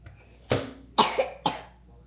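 A person gives three sharp coughs in quick succession, close by and indoors, with a faint low hum underneath.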